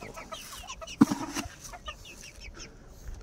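Bantam chickens and ducks clucking and chattering close by at feeding time, with a burst of louder squawking around the one-second mark, then softer scattered clucks.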